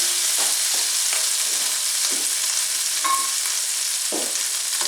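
About 1.5 tablespoons of butter melting with olive oil in a pan for chicken tikka masala, giving a steady, close, even sizzle throughout, with a few faint utensil taps and no talking.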